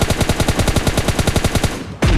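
Automatic gunfire in PUBG Mobile Lite, a long rapid burst of evenly spaced shots at close range, loud and alone, ending with a brief pause and a final heavier blast.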